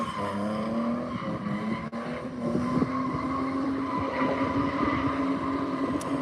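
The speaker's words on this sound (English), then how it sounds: "this might be Sam in the green E36 with a Huxley Motorsport kit on it" A green BMW E36 drift car with a Huxley Motorsport body kit slides around a track during a drift practice day, its engine holding a steady loud rev while the tires squeal and skid continuously.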